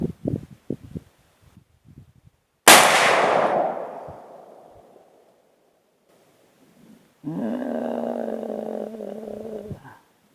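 A single loud, close shot from a Marlin 1895 rifle booms and rings out over a couple of seconds, then after a quiet gap a sustained mechanical rumble follows.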